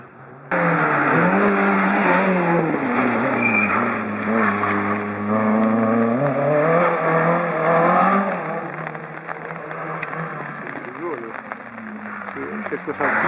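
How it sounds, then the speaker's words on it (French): Rally car at the 2013 Rallye Salamandre revving hard as it drifts, engine pitch rising and falling in loud sustained sweeps, close by over crowd noise, with people talking throughout. "Ah voilà, t'as vu la drift?"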